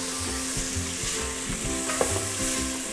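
Bell peppers and onion frying in oil in a pan sizzle steadily while being stirred, with a rhythmic scraping of the utensil and a soft clink, close and without talk.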